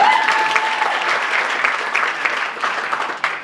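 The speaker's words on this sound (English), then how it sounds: "You can clap." A crowd applauds at the Saint Paul Winter Carnival senior royalty coronation, with loud, busy clapping throughout, a brief whistle at the start, and scattered sharper claps standing out toward the end.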